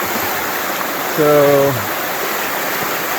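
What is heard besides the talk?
creek water flowing at a trail crossing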